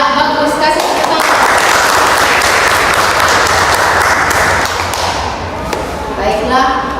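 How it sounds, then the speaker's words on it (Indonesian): A classroom of children bursts into loud, dense clapping that lasts several seconds, then tapers into scattered claps, with voices audible around it. "Kasih tepuk tangan"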